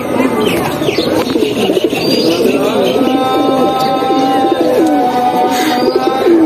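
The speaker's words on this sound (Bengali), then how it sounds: "খুবই সুন্দর একটি কবুতর।" Silver female pigeons in a home loft coo in repeated low throaty rolls, close and loud, with faint chirps and rustling behind and no talk.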